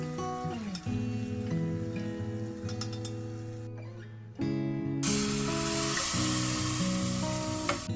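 Garlic and green chillies frying in a hot tadka for a curry, heard as a loud, steady sizzle. Clinks of a utensil stirring sound over the sizzle, with no talk.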